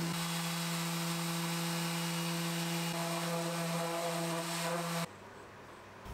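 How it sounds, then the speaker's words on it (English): Power sander working over birch plywood at 120 grit, a steady whining buzz with strong tonal hum that runs continuously for about five seconds, then cuts off abruptly. "I can then sand everything at 120 grit"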